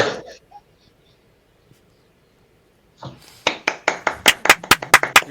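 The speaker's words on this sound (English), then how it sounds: "Yay! Round of applause, folks." Audience clapping bursts in after a sung song ends, starting with a few scattered claps and growing into a fairly close, lively round of applause with sharp, irregular hand strikes.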